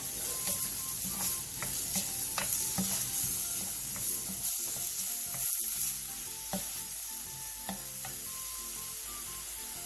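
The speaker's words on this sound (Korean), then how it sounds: "양파가 투명해졌으면 호박을 넣고 골고루 어우러질 정도로만 볶아주세요." Onion and zucchini stir-fry in a pan, a constant close sizzle with repeated scraping and clicking strokes of the utensil, moderately quiet and free of voices.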